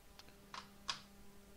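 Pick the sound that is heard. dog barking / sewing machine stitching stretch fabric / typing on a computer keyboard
typing on a computer keyboard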